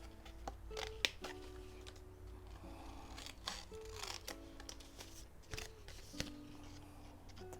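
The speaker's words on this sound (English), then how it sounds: "Just going to cut through here. And again down here." Scissors snipping around the edges of handmade inked paper cards, a run of sharp, close, quiet cuts at irregular intervals with no talking.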